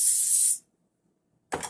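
A short, close hiss of cooking oil spray coats a waffle maker for about half a second, followed by silence and then a brief clatter.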